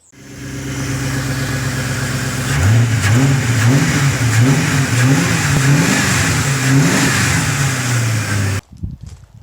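A Ford Crown Victoria engine runs close and loud, rising into a series of rhythmic revs that swell and fall before cutting off abruptly near the end.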